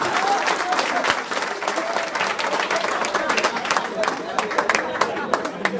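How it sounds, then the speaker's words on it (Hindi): Steady applause from an audience at a Bolpur, West Bengal business meeting, dense overlapping claps filling the room for several seconds with voices mixed in underneath. "जबरदस्त तालियां सर के लिए।"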